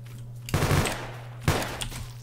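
Gunfire from the WW2 Roblox game Battlegrounds: two bursts of rapid automatic fire a second apart, loud and close over a low steady hum.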